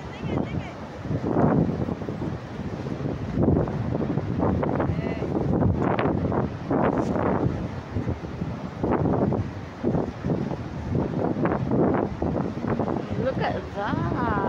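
Strong wind rumbles and buffets the microphone continuously on a hilltop overlooking the ocean near Ayr, Australia, with people talking intermittently over the blustery noise.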